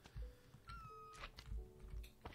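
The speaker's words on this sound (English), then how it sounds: "That was the cat." Cat in the video game Minecraft giving a few short, quiet meows amid soft game thuds and low background sounds.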